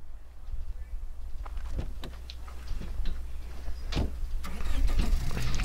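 A car driven in the zombie survival video game State of Decay 2, a steady engine drone under sharp clicks and thumps, with a few louder knocks as it goes, no talk.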